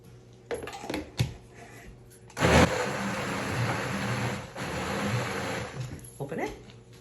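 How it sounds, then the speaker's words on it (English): A blender whirs loudly through gazpacho ingredients seasoned with cumin and black pepper, a steady broadband roar starting abruptly and running several seconds, preceded by a few clinks and handling sounds near the microphone. "Close it and blend."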